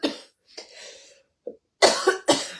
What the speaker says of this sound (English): I hope I don't have a coughing fit.